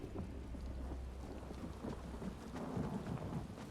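Rain falls in Apocrypha, the Oblivion realm in Elder Scrolls Online, as a faint, steady wash of drops with a low rumble beneath, with no voices.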